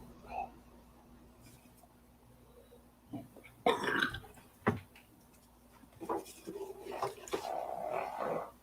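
A few short, rough belches burst out around the middle and later part of the clip, moderately loud against a quiet room with faint vocal sounds.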